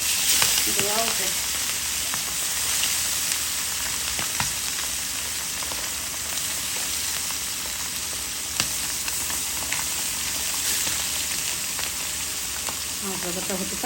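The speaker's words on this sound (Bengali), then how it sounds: "মাছ ভাজাটা হতে থাক।" Spice-coated churi fish, rubbed with turmeric, chili and salt, frying steadily in hot oil, a continuous dense sizzle with crackles and a faint voice briefly in the background.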